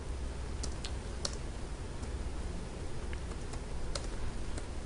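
Rapid, light keystrokes clatter on a computer keyboard as code is typed, a quiet, irregular run of clicks close by with no talking.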